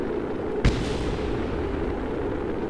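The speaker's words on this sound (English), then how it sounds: "that explosion you heard in the background just then was actually the fuel tank disintegrating on re-entry" A single short, sharp explosion goes off in the background of the Kerbal Space Program video game as a fuel tank disintegrates during re-entry, a sudden boom above a steady rushing noise bed.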